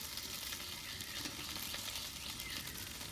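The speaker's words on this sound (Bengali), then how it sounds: "এবার ভেজে রাখা ডিমটা দিয়ে দেবো" Chow mein is stir-fried with a fried egg in a pan, giving a steady, dense sizzle with faint scraping from stirring throughout.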